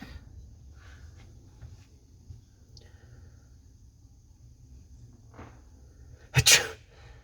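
A single sharp, loud sneeze bursts out near the end after several seconds of quiet indoor room tone with faint murmurs, in a state house.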